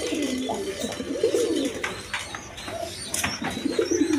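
Pigeons coo at a pigeon sale, soft low repeated calls from several birds close by, overlapping irregularly against faint background noise.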